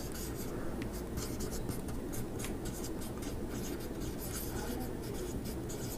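Writing by hand, probably pen on paper during a commerce lesson, heard as continuous scratchy strokes with rhythmic short bursts, close and fairly loud against a dense background rumble, without clear speech.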